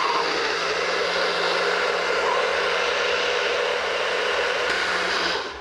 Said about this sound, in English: I just happen to have this little NutriBullet, which makes it pretty convenient.